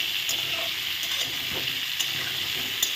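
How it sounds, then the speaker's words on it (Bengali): Pointed gourd (potol) fries gently in a pan, giving a steady, dense sizzle with light crackles and occasional soft stirring scrapes, close and continuous. "খুব আস্তে আস্তে ভেজে নেব।"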